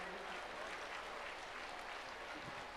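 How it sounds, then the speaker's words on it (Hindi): Audience applause at a Jain Panchkalyanak ceremony at Suryapahad, a dense, steady wash of many hands clapping throughout, fairly loud and continuous with no clear pauses. "आप तालियों से तो सम्मान कर ही सकते हैं।"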